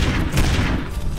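Gunfire in the Family Guy: Back to the Multiverse PC game comes as a dense, loud, continuous rattle of shots, heavy in the low end, heard alone for about a second.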